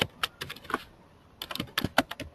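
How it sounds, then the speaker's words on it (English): Keys clack on a computer keyboard in two short bursts of quick, close typing with a brief pause between them. "I need to type"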